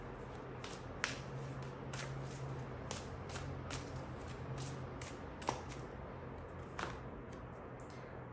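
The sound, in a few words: shuffling and drawing oracle cards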